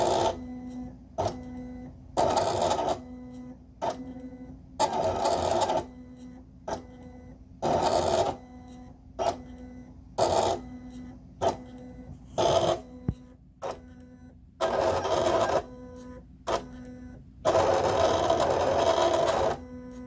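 A Silhouette Cameo 4 cutting machine works through a cut. Its motor whirs in short, repeated bursts of varying length separated by brief pauses, close and moderately loud.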